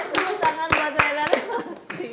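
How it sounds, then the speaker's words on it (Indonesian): Children in a school group counselling session clapping for a classmate, a quick run of about eight sharp, close handclaps at a steady pace, with children's voices mixed in. "Tepuk tangan buat Rena."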